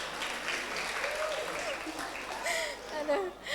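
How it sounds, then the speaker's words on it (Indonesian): An audience at a university communications program introduction claps, a scattered, moderate applause that swells and dips, with faint talk and a few tonal sounds mixed in. "Tepuk tangan."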